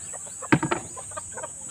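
Rhode Island Red chickens at a poultry pen give a few clucks, one louder burst followed by softer scattered clucking, fairly close, over a steady high background hiss.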